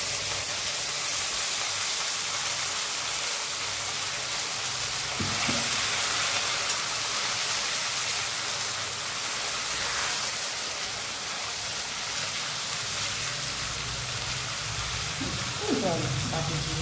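Tomato, garlic and green chilli frying in a pan for tilapia, a loud continuous hiss and sizzle close up, with a few soft utensil touches and faint speech in the background.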